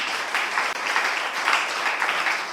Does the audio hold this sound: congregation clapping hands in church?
yes